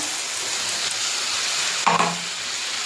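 Masala paste of cashew, poppy seed, green chilli, tomato and ginger frying in a pan for butter paneer, a loud steady sizzle with a brief stirring scrape near the middle.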